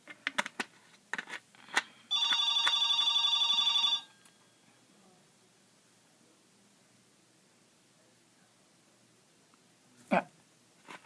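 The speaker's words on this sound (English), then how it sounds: "Man, the phone got a ring." A telephone rings with one trilling burst lasting about two seconds, set among a few faint knocks and rustles in a quiet room.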